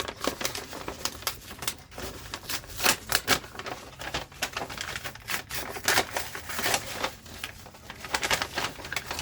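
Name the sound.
cutting paper for a Starbucks junk journal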